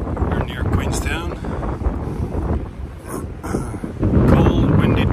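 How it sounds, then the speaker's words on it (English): Strong, cold wind buffets the microphone along a roadside fence line on a farm near Queenstown, a steady roaring rush with louder gusts, and a voice speaks over it. "My goodness, this wind is angry today."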